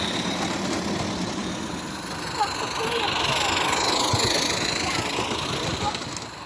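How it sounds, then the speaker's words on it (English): An Accucraft Ragleth live-steam locomotive runs on 45mm garden track hauling W&L rolling stock, giving a continuous chuffing, rumbling clatter heard close by with a voice talking over it. "now we have an Accucraft Ragleth pulling some W&L rolling stock with ease"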